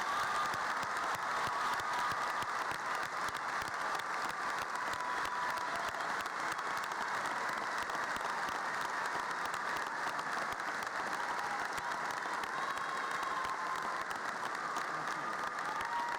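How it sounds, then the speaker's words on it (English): Sustained applause from a large audience at a 2019 high school graduation ceremony, steady dense clapping filling the hall for the full length at an even level, with no speech over it. "Can you give them all a round of applause?"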